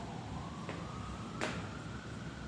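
Emergency vehicle sirens sound faintly in the background, with one steady wailing tone held across the clip over constant low ambient rumble.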